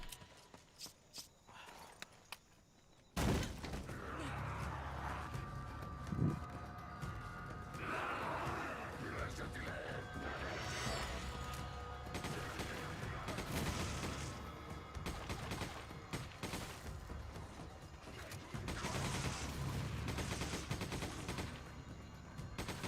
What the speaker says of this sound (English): Are you shooting the guys up there